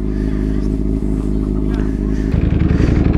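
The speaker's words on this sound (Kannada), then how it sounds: "ಸೊ ಅದಕ್ಕೆ ಇವಾಗ ಗಾಡಿನ ಸ್ಟಾರ್ಟ್ ಮಾಡೋಣ." A Ducati Panigale V4S Superleggera fires up: after a steady low hum, the engine catches about two-thirds through and settles into a deep, throbbing, close-up idle.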